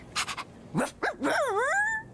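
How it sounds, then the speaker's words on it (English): A dog gives a quick burst of short yips and barks, then a drawn-out, wavering howl-like whine at close range, with no talking over it. "Now, my dog barked."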